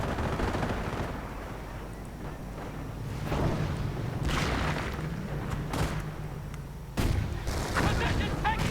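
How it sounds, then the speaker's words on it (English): Mortar shells landing in a World War II strategy game battle, several heavy booms and thuds scattered over a rumbling backdrop of distant gunfire, with a commentator's voice running throughout. "And now getting mortared by the mortar."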